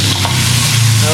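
A lemon caper butter sauce, with lemon juice, salt and a little sugar, is stirred in a hot pan, a loud close sizzle with a soft scrape of the spoon and no talking.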